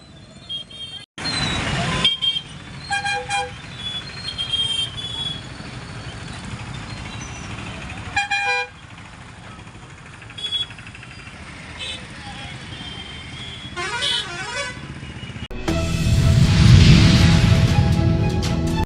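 Vehicle horns honk repeatedly in a traffic jam on a crowded bridge, mixed with engine and road noise, and someone talks over the scene throughout.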